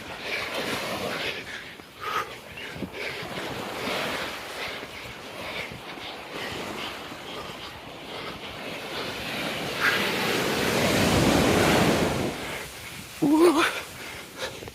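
Ocean waves wash up onto a beach, a surge of surf swelling and hissing near the end, amid wind noise and a person's breathy voice.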